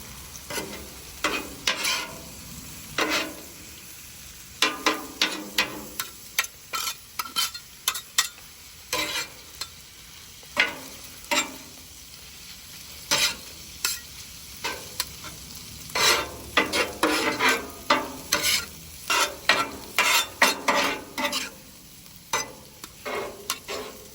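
Cheesesteak meat and provolone stirred and chopped on a hot griddle, with a steady sizzle beneath frequent close, rapid scraping and tapping strokes of a spatula.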